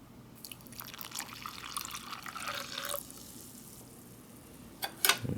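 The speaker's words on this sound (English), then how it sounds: "You add 6 ounces of water, hot water." Hot water, about six ounces, poured into an MRE coffee pouch from a cold-weather ration, a faint close splashing pour that builds for a few seconds, followed by light drips and a couple of sharper liquid splashes.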